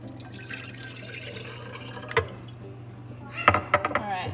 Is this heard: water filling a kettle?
yes